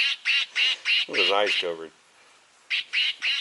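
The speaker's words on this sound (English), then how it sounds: "Quacks like a duck." A novelty truck horn on a service truck honks in a quacking, duck-like voice, a string of short, loud, evenly spaced quacks, broken by a short stretch of close talk, then more quacks.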